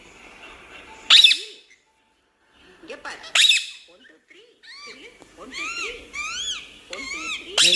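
A pet talking parrot vocalizes in a home, giving sharp squawks followed by a run of chattering, whistled calls that rise and fall, loud and close, with no talk over them.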